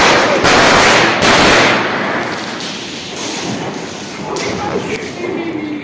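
Diwali firecrackers bursting outdoors in a few loud close bangs early on, followed by crackling and sizzling debris, with people talking nearby.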